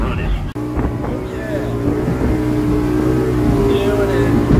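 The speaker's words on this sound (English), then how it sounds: "Hopping on the boat. Let's get some speed. 80 miles an hour. Engine's running." A boat engine roars steadily at speed, around 80 miles an hour, on the water in Thailand, a loud continuous drone mixed with heavy wind buffeting the microphone.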